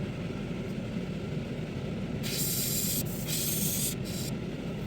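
An airbrush hisses steadily, spraying a thin weathering mix made mostly of Tamiya X20A thinner onto a Rapido RS18u model locomotive, with a low constant compressor-like drone beneath and two brighter bursts of spray near the end; close, no talking.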